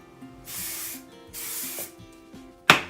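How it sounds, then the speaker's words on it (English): Two sustained bursts of texture spray hissing from an aerosol can onto hair, each about half a second long, separated by a short pause, followed by a brief sharp click or tap. "a little bit more texture spray"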